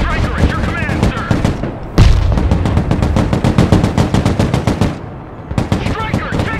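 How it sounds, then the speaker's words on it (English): Rapid bursts of automatic gunfire in the combat game Broken Arrow, dense and loud, rattling almost continuously with a brief pause near the end, with battlefield chatter mixed underneath. "Striker, taking fire!"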